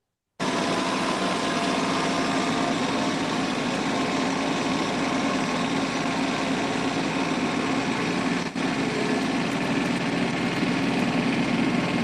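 A tractor engine runs at a steady, continuous idle, loud and close, its even drone unbroken for the whole stretch apart from one tiny dip.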